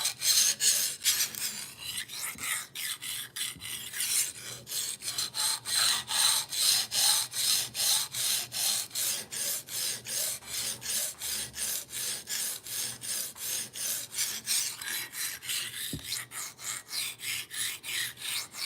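A knife blade scrapes back and forth across a diamond sharpening stone in quick, even rasping strokes, close and steady, with a few slower passes at the start and no talk.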